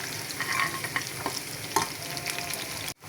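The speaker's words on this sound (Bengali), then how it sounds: "আমি এই রসুনটা একটু ব্রাউন কালার করে নেব" Garlic frying in a pan until brown for nihari, with a soft, steady sizzle and light spatter alongside a few stirring scrapes, cut off abruptly at the end.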